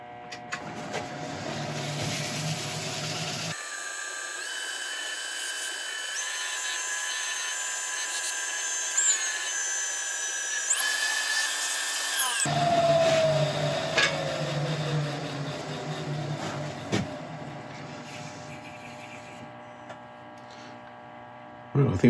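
Wax being buffed into a turned wooden piece spinning on a woodturning lathe: a steady motor hum and a whirring, rubbing drone that shifts in pitch partway through as the speed and pressure change.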